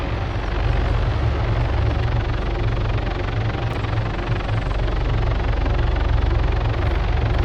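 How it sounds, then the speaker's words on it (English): AI transport helicopters in the Arma 3 video game fly overhead, with a steady, loud rumbling rotor and engine drone that stays constant throughout. "these choppers will actually fly away after dropping off their troops"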